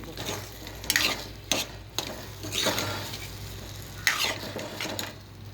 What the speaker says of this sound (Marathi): आता जरा मिक्स करून घेते मी बघ आता शिरा आपला छान मिक्स झाला